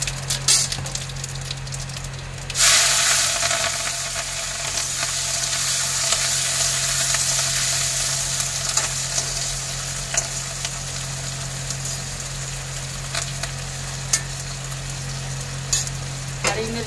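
Onion hits a pan of oil with bay leaf and cumin, and a loud sizzle bursts up and then settles into steady frying with light stirring over a low, constant hum.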